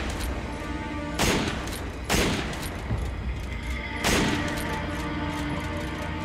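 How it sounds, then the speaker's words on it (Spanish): Gunfire in the Resident Evil 5 video game on PS4: three loud, sharp bursts of shots roughly a second or more apart, each a broad crack over a steady background of game ambience and low rumble. "que te estoy acribillando a tiros"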